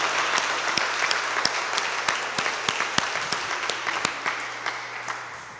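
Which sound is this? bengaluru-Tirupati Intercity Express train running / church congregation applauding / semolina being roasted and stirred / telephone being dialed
church congregation applauding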